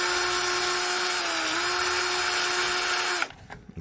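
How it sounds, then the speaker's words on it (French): A cordless drill spinning a wire brush to clean oxidized trailer light connectors, a steady high whine with a slight pitch dip midway, stopping abruptly near the end, followed by faint handling clatter. "je change la brosse de ma visseuse pour aller attaquer les connectiques"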